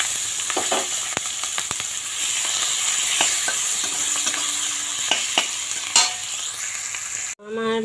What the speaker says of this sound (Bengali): এবার আমি পেঁয়াজ আর কাঁচা লঙ্কাটা দিয়ে একটু ভেজে নেব।